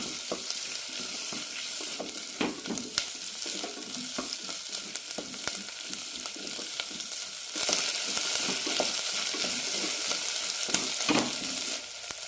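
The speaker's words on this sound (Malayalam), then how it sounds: "ഇത് നന്നായി വഴറ്റിയെടുക്കാം സവാള കണ്ണാടിപ്പരിവ് ആവുമ്പോൾ ബാക്കിയുള്ള ചേരുവകൾ ചേർക്കാം" Onions with garlic and chilies sautéing in a pan for brinjal chutney: a continuous close sizzle broken by scraping stirs, with no talk.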